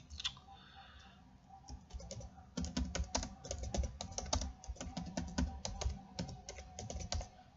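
Typing a title on a computer keyboard while building a PowerPoint slide, with a dense run of quick key clicks after a few scattered taps, close and clear.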